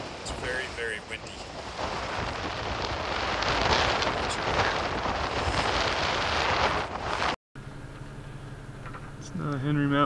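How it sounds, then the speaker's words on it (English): Strong mountain wind in Utah's Henry Mountains buffets the microphone with loud, roaring rumble and gusts for several seconds, then cuts off abruptly before a different, quieter segment follows. "It's very, very windy."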